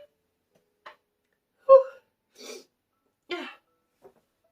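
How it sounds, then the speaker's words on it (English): A single person sneezes sharply in a quiet room, with small breaths and throat noises scattered before and after. "Yes, I sneezed and I did not edit it."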